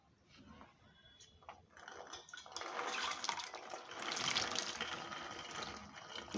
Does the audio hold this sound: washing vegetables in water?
yes